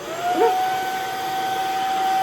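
A household vacuum cleaner runs alone with a steady, fairly quiet motor whine. A thin high tone holds throughout, and a brief wavering squeal comes near the start.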